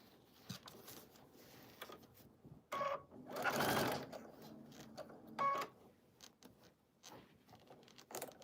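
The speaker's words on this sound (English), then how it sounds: "And then I'm going to sew on this dashed line." Close, fairly quiet sewing machine stitching a paper-pieced quilt block along a dashed line, short bursts of rapid needle clatter between pauses and soft handling noises, no talking.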